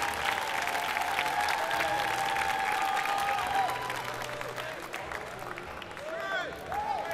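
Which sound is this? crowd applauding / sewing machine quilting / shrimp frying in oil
crowd applauding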